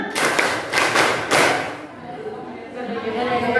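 Workshop participants clap a rhythmic clap chant together, several quick loud claps in a patterned burst, followed by a calmer stretch of room sound with voices talking underneath.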